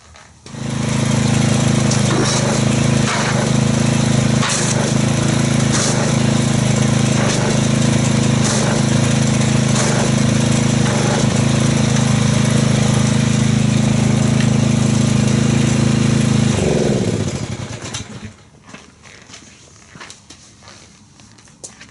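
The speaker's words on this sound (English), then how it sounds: "let's crank the pressure washer up and see how much foamage we get from this" A pressure washer runs steadily and loudly for about sixteen seconds while spraying Chemical Guys wash-and-wax foam, a constant droning motor with hissing spray, then cuts off and leaves quiet room noise.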